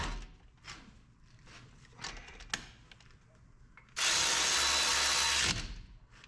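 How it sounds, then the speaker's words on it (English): Brake caliper bolts on a 2015 Toyota Highlander are tightened with tools: close metallic clicks and ratcheting, then a loud, steady power-tool whir lasting about a second and a half before stopping. "All right, tighten those bolts up quick."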